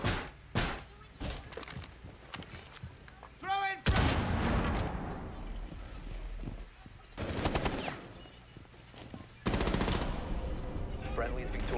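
Gunfire in Rainbow Six Siege during a Bank team deathmatch, scattered sharp single shots and short bursts followed by a long sustained rattle of automatic fire, with brief game voice lines mixed in.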